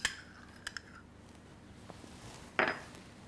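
Two tablespoons of mayonnaise spooned from a container into a bowl for a chicken sandwich sauce, heard as a few light clinks of a spoon against the dish, then a single sharper scrape and knock near the end, with a quiet kitchen around it.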